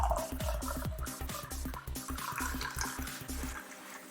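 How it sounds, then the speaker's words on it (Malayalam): Hot water pours and gushes steadily into a bowl of mutton liver being washed for a liver fry. The flow is loud and continuous for about three and a half seconds, then cuts off. "അതിനായിട്ട് നമുക്ക് ഒരു കപ്പ് ചൂടുവെള്ളം ഒഴിക്കാം."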